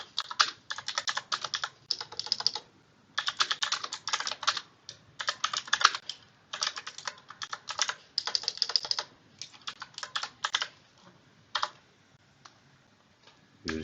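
Steady bursts of typing on a computer keyboard while entering text into a document on a virtual machine, clicks coming in quick rhythmic runs separated by short pauses, close and clear with no talk.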